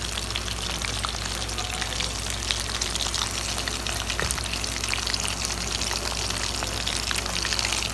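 Chicken 65 pieces fry in hot oil in a pan, a steady dense sizzle and crackle that holds evenly throughout with faint spattering pops, close and alone without talk.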